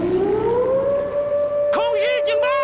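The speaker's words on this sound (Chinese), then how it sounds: "空袭警报！" An air raid siren in a wartime drama set during the Japanese bombing raid on Wuhan wails loudly with a long rising tone, and a shouting voice breaks in over it near the end.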